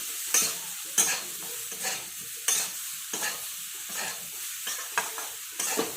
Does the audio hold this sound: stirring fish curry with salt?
yes